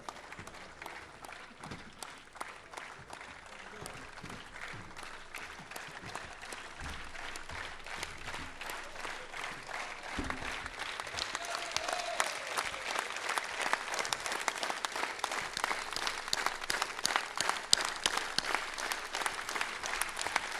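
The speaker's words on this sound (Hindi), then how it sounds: "बहुत जोर से तालियां बजाएं इनके लिए।" An audience claps at a sports gala, a long run of sustained applause that stays moderately distant at first and then grows louder and denser in the second half, with no talking over it.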